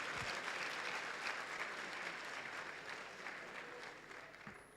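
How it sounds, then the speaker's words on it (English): Audience applause for award winners at an evening Citizens of the Year ceremony, a steady, dense round of clapping filling the hall and easing slightly toward the end. "So let's give them all another huge collective round of applause"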